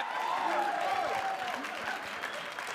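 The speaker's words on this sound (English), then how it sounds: "Don't clap!" Applause from a comedy club audience at a live stand-up show, a steady wash of clapping and crowd noise holding loud and even for a few seconds.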